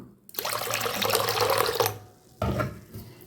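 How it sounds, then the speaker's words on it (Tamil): Water pours steadily into a bowl of wheat flour batter for over a second, stops, then a shorter second pour follows, close and clear. "கொஞ்சம் கொஞ்சமாக தண்ணியை ஊற்றி கலந்துங்க"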